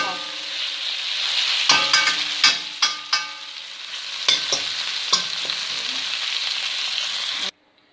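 Beef pieces marinated and cooked with a strong six-spice sauce and a little oil, frying in a pan with a steady close sizzle, broken by several sharp scrapes and stirring clatters before stopping abruptly.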